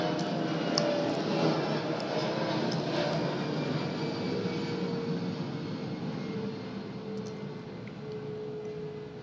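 An airplane in a video game drones steadily with a broad, even engine roar that fades slightly over several seconds, with no talk over it.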